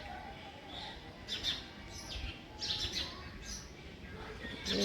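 Four or five parrots give faint, scattered chirps and short calls at a distance over a quiet background.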